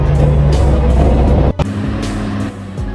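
A heavy truck hauling a load of wood up a steep dirt road, its engine a loud, close, labouring drone that drops suddenly midway and then settles into a lower rumble.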